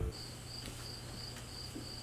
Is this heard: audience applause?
no